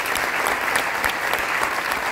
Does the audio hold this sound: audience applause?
yes